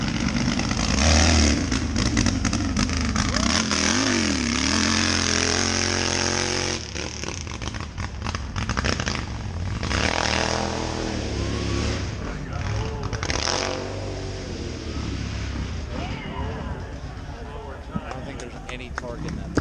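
Motorcycle engine at a hill climb event, revving and roaring with rising and falling pitch as the bike pulls away, loud and continuous with crowd voices mixed in.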